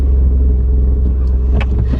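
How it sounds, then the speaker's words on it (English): A Fiat car reverses out of a parking space, its engine a close, steady low rumble with no talk over it. "I'm literally about to just reverse out and go back into another space."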